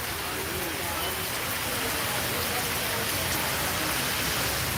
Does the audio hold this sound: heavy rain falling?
yes